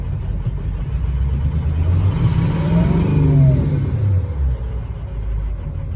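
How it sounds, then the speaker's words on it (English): A pickup truck engine lopes and surges unevenly as its fuel cuts out, a loud close rumble rising and sagging in pitch over several seconds without settling. "I'm driving Kaylee's truck right now, and it's like loping, like this, the fuel's cutting out."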